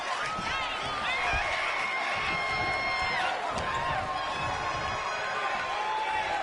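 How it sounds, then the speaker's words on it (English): A capacity arena crowd at a WWE Monday Night Raw event in a wrestling video game, a steady roar of cheering and whistles that runs throughout beneath a commentator's voice. "This capacity crowd is sending him love, and he's sending it right back."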